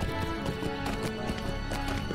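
Horse mount hooves in the video game Lord of the Rings Online (LOTRO) clop in a steady, quick rhythm, close and fairly loud, continuing for a couple of seconds with game ambience underneath.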